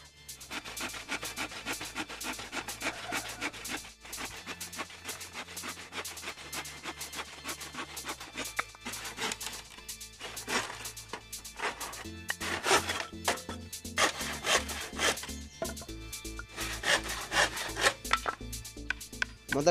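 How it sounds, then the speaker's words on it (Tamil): Wooden planks about two inches wide are hand sawn into short pieces for a flower pot built from an old fan, with steady scraping strokes that run continuously alongside clatter and a low hum. "இந்த 2 இன்ச் அகலத்தில் உள்ள பலகையில் வந்து ஒரு 1 அடி நீளத்துக்கு 4 பீஸ் வந்து கட் பண்ணிக்கணும்."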